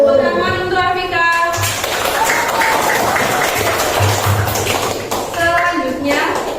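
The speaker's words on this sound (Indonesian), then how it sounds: "tepuk tangan untuk Afika" A classroom gives Afika a round of applause, many hands clapping loudly in a dense burst that lasts several seconds between a teacher's speech before and after.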